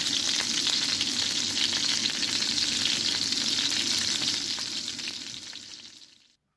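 Homemade Isan sausage frying in hot oil gives a steady, dense sizzle close by, holding level for about five seconds before tapering off and cutting to silence at the end.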